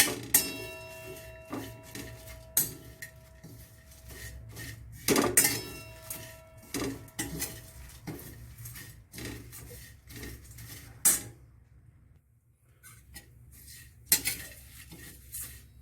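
Betel nut pieces roasting in a pan over a medium flame, stirred with a metal spoon: intermittent scraping and clinking strikes against the pan, separated by quieter gaps, close and moderately loud with no voices.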